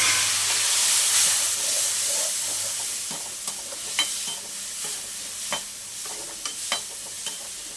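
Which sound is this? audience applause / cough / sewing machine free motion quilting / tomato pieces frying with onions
tomato pieces frying with onions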